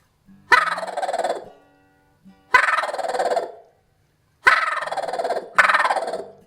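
A Haint turkey call blown by mouth imitates a turkey gobble: four loud, rattling gobbles, each about a second long, spaced roughly two seconds apart, close and clear with no other sound between them.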